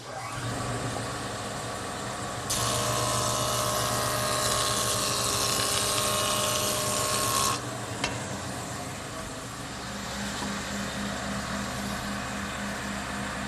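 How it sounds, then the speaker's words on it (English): A woodworking jointer with a heavy wheel and three carbide cutters spinning at high speed takes a loud, steady broadband pass across a board for about five seconds, set within a continuous machine hum that carries on before and after. "it's set up with 3 carbide cutters and a heavy wheel that turn at a relatively high rate of speed"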